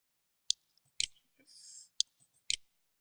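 Keystrokes on a computer keyboard as a command is typed at an administrator command prompt: a few sharp, isolated clicks spaced about half a second apart, close and fairly quiet, with a brief soft rustle between them.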